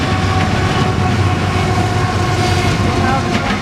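A CSX eastbound intermodal freight train passes close by in Marion, Ohio, a loud, steady rumble of rolling cars with rhythmic clickety-clack of wheels over rail joints throughout.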